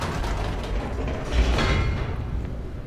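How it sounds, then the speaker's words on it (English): A dark, continuous mechanical rumble with creaks and grinding as an elevator descends in the video game The Stanley Parable, steady and enclosed without speech. "let's go down this scary elevator"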